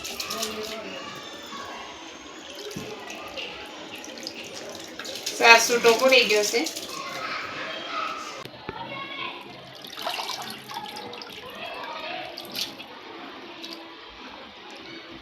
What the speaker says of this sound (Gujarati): હવે આપણે તાજા પાણીમાં ધોઈ નાખશું